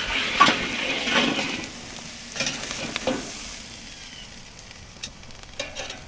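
Steaks on a hot grill grate over a fire, a steady close sizzle with a few scrapes and clinks as they are rotated and flipped, no voices.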